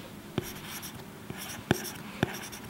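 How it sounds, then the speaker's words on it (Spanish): Stylus writing on an iPad Pro screen, scratching like pencil on paper: a few soft, close scrapes with three sharper strokes standing out against quiet room tone. "Así suena un lápiz en un papel. Así suena esto."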